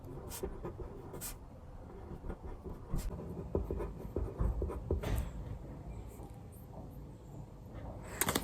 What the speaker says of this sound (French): Je vais écrire la petite note